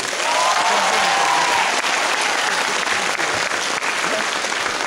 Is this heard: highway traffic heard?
no